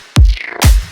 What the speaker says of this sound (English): this little bass shot is really cool